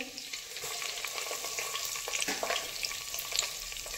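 Curry leaves and whole spices hit hot oil with cumin seeds in a pan, giving a soft, steady crackling sizzle with scattered pops, close but faint.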